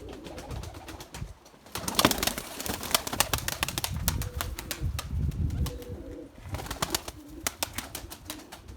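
A pigeon flaps its wings in bursts of rapid clattering beats, close by, mixed with soft coos and rustling in a garden loft setting.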